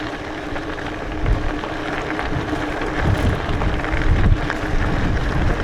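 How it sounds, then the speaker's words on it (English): Gusty wind buffets the microphone at an exposed outdoor campsite on the Mogollon Rim, a continuous broadband rush that swells in stronger gusts, with no voices. "Dang wind, not my friend."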